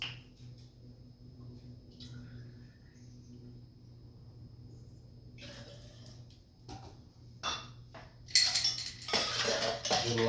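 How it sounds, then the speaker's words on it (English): Ice clinking and rattling into a glass for a sake cocktail, a burst of bright knocks and tumbling cubes near the end after a quiet stretch with faint kitchen clatter. "Little ice up in there."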